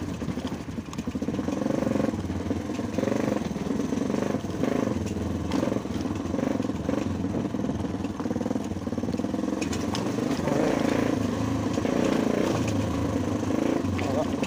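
A motorcycle engine runs steadily on a downhill village road in Mustang, started in second gear, its mid-pitched rumble continuous and close, with rider's voices talking over it throughout.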